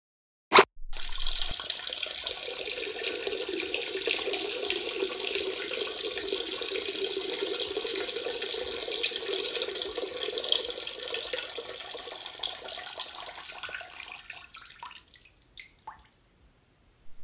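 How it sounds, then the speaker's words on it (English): A man urinating in a bathroom toilet: a sharp tap at the start, then a steady trickling, splashing water stream that runs for about fourteen seconds before tapering off into silence. "going to the bathroom to relieve himself"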